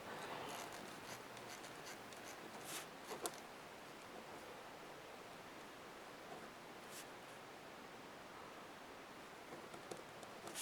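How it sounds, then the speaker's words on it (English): Pen strokes scratch faintly and close by on paper in a quiet room, with short bursts of writing and light rustling. "I should write it down for you"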